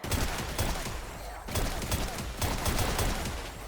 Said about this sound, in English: But this is just like Prison Escape style with the burst. 3 bullets come out.